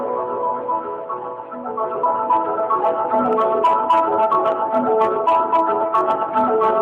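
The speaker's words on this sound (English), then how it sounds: "it's a very delicate percussive piece where the voices and the clarinet have these melodic tones on top of the repetitive percussion noises" A piece plays, with repetitive mallet percussion pulsing beneath sustained voices and clarinet tones in layered, shimmering chords at an even, moderate level.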